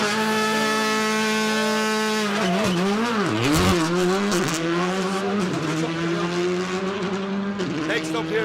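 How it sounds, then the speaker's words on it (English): At a rally stage start in West Cork, a rally car holds a steady revving tone, then launches. The engine note climbs and wavers through quick gear changes, with a brief tire squeal, loud and close. "Every 30 seconds we're going to have a rally car."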